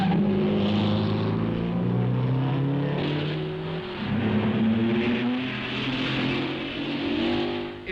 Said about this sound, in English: Hawthorne and Collins scream past the pits, straining every nerve